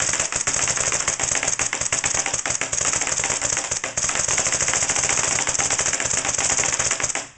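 WGP Karnivor paintball marker with Belsales pneumatics, dying batteries and a Reloader B hopper firing semi-auto, a loud rapid train of sharp mechanical cracks running almost continuously, broken only by one brief pause before trailing off.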